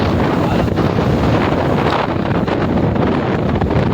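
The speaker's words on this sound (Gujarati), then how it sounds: "પવન એક નંબર આવે, પવન આવતો જ હોય 24 કલાક" Strong wind at an outdoor fair roars and buffets the microphone continuously, loud and steady throughout with no voices.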